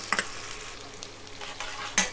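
Chopped onions stirred and frying in a pan for chicken rogan josh, a steady sizzle with a few sharp spoon scrapes and clinks against the pan, close and alone without any talk.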